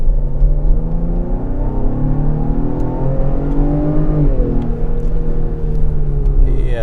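A 2021 Ford Explorer King Ranch drives on the road, its engine droning steadily and building gradually with a rising pitch sweep, over continuous loud road and tire rumble.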